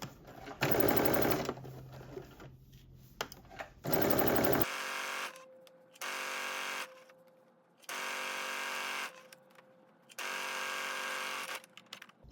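Sewing machine stitching a half-inch seam on a sweatsuit, several loud bursts of rapid mechanical whirring separated by short pauses, including back stitching.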